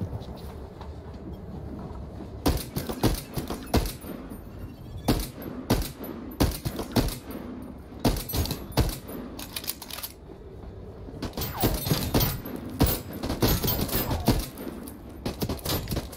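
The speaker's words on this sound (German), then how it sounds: "dann stellen wir uns auf eine ordentliche Schießerei ein" Heavy gunfire during a shootout in the video game Voidtrain: rapid, loud bursts of shots and sustained volleys cracking one after another over a rumbling background, with brief lulls between clusters.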